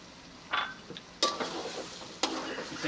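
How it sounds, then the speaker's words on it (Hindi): Spoon stirring coconut into semolina milk halwa in a pan, three soft scraping strokes against the pan with a faint sizzle beneath. "इसे हलवे में मिक्स कर देंगे।"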